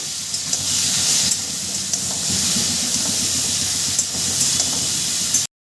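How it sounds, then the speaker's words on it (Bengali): Drumsticks and vegetable stalks fry in a pan with a loud, steady steamy hiss as water cooks off, close and continuous with faint spatters, stopping abruptly at the end. "সবজিটা আমি ভেজে নেব ভেজে নেওয়া বলতে জল বেরিয়ে যাবে"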